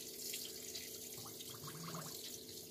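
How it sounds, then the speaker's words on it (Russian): Water runs steadily from a tap in a 1997 Bailey Ranger 520/5 caravan, fed by an external pump, making a continuous faint splashing flow with no voices. "Сейчас слышно, как она включилась. Достаточно хороший напор воды."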